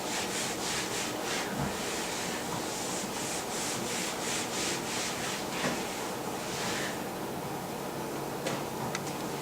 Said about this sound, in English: Using a clean cloth, wash the surface where you will be setting up your supplies.